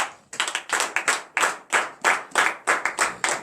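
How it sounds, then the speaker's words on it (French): A church congregation at a morning prayer service claps hands in acclamation, a brisk run of sharp, close claps in uneven clusters, loud and continuous with no talk over it. "Donnez l'acclamation à l'Éternel."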